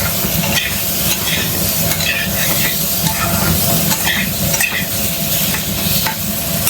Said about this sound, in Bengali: অল্প একটু ভাজবো, এতে 2 মিনিটের মতো